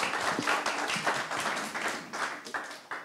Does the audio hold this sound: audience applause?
yes